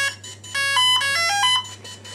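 A DJI Phantom 3 Standard drone that has just been switched on plays its startup chime, a short bright electronic melody of rising and falling tones, close and clear with a low hum beneath and no speech.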